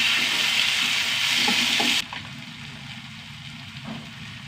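Onions and tomatoes fry in a pan with a loud, steady sizzle for about two seconds, then the hiss drops sharply to a quieter crackle with faint stirring.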